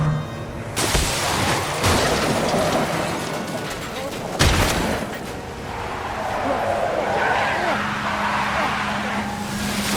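A car skids on a road after its tyre is shot out in the video game Heavy Rain, giving a loud continuous scrape with sharp impacts, under a speaking voice.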